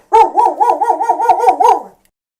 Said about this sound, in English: there goes my dog being a dog